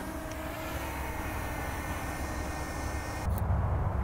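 A small DJI Mini SE drone flies outdoors with a steady, broad whirring drone that holds level throughout and swells a little louder near the end, with no voices.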